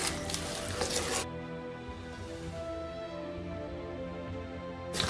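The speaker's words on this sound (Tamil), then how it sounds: "இப்போ இது எல்லாத்தையும் நல்லா கலந்து விட்டுடலாம்" Adai batter with drumstick leaves being mixed in a bowl, a short burst of wet scraping and stirring at the start followed by quiet, with no one talking.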